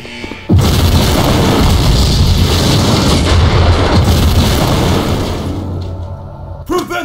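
A big video game explosion bursts in suddenly and roars on as a loud, dense rumbling blast for several seconds before fading out.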